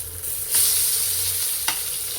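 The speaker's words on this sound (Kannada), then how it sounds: "ಲೋ ಫ್ಲೇಮ್ನಲ್ಲಿ ಇಟ್ಕೊಂಡು ಫ್ರೈ ಮಾಡ್ತಾ ಇದ್ದೀನಿ." Food frying on a low flame sizzles steadily in a pan, with a soft scrape as it is flipped partway through and a second brief turning sound near the end; no voices.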